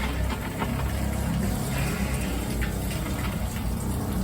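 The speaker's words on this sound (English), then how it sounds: "and we'll flush the toilet" An RV toilet being flushed while the camper is winterized gives a steady rushing gush of water, loud and close, running without pause and with no voices over it.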